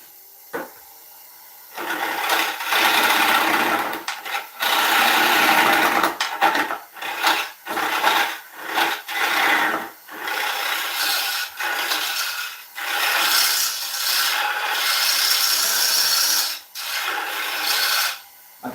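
A lathe turns a wooden bowl from a difficult log as a gouge cuts away the tenon, making loud, rough scraping sweeps in repeated long passes broken by brief pauses.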